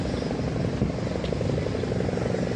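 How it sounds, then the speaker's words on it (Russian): A patrolling helicopter passes over the seaside in Antalya, a continuous low rotor thrum with a steady broadband roar, moderately distant and without talk. "Ага, вертолет чего-то тут патрулирует."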